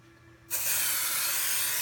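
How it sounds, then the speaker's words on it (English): A Madeira temporary adhesive spray is aimed at the back of a baseball cap frame, starting abruptly after a short quiet moment and then hissing as one loud, steady, close burst. "we just use a temporary attached spray that we get from Madeira"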